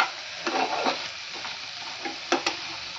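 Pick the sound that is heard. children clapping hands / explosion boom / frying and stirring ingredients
frying and stirring ingredients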